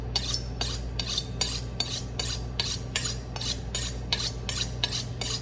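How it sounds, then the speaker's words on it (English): Knife sawing through a flat iron steak on a board, a steady run of rhythmic scraping strokes about twice a second, close and fairly loud over a low steady hum. "Now we're going to learn how to cut a steak."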